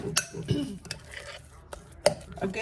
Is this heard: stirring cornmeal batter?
yes